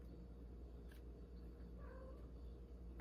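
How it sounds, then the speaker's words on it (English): A domestic cat gives a soft, faint meow partway through, heard distantly over a low steady background hum with no talking. "did you hear the kitty cat?"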